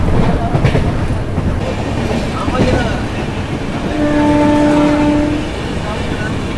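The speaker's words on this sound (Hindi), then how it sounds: "18046 ईस्ट कोस्ट एक्सप्रेस के साथ का क्रॉसिंग।" A passing train rumbles on the rails during a crossing with the 18046 East Coast Express, heard from inside a general coach, with a steady close rattle and a drawn-out horn tone near the end, under faint voices.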